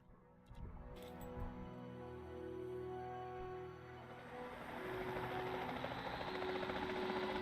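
Helicopter flying in a dinosaur-hunting video game, a continuous rotor and engine drone that swells after a brief quieter start and grows louder and fuller toward the end, with no talking.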